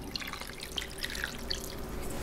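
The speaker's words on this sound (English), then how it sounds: "we're gonna cover up the meat with water" Water pours into a cooking pot over meat being prepared for sisig, a steady trickling and splashing with small drips, close and fairly soft.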